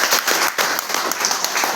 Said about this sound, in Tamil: முதல் பரிசாய் ராஜசேகருக்கு கைதட்டுங்க